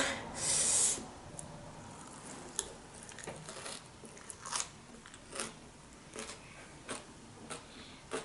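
Crunchy Thai papaya salad with grilled prawns being eaten close up, a burst of loud crisp crunching followed by softer, spaced chewing crunches, with no talking.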